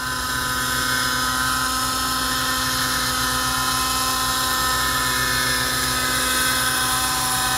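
Helicopter flying in before landing, a constant loud rotor and engine drone with steady whine, close and unbroken throughout.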